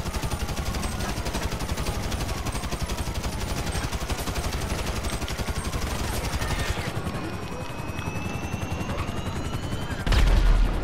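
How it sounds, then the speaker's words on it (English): Continuous dense automatic gunfire in GTA 5, a loud, close exchange of rapid rattling shots with no pause, ending in a heavier burst. "He's shooting at me, I'm shooting at him."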